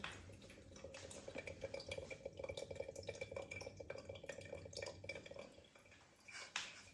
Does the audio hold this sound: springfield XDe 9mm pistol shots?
no